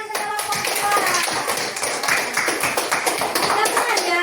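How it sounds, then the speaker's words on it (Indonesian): A school class applauds a student group in a classroom, with dense, continuous clapping from many hands, loud and close, lasting the whole few seconds. "Ya, tepuk tangan untuk kelompok"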